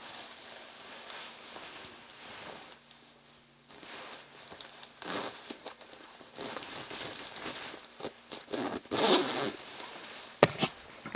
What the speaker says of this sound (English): I have to zip up the coat.